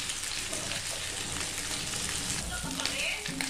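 Beef for a pepper stir fry sizzles and crackles hard in a hot pan, a dense, loud, steady frying hiss that lasts the whole stretch with light stirring scrapes near the end.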